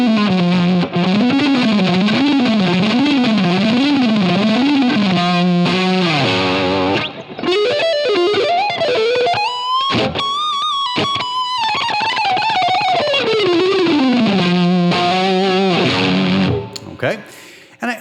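A distorted electric guitar plays a lead through a Line 6 Helix with hall reverb: wide vibrato on sustained notes, fast runs and bends, loud and continuous for the whole passage.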